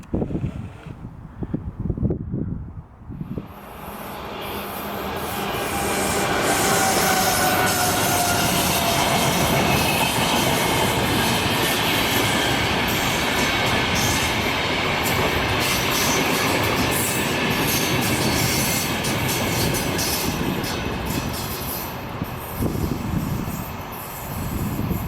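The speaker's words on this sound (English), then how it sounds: "How to tell that the train is arriving soon." The night train from Helsinki to Oulu in Finland arrives after a few quiet seconds with a loud, steady roar of wheels and carriages that swells and holds, faint squeals riding on top.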